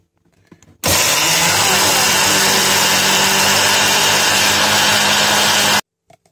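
A kitchen mixer grinder (mixie) grinds corn into a smooth paste, switching on abruptly with a loud, steady, high-pitched whirring roar that runs unbroken for about five seconds before cutting off sharply.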